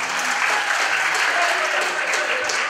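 Audience applause at a student startup competition awards event, steady dense clapping throughout at full loudness, close and continuous with no gaps.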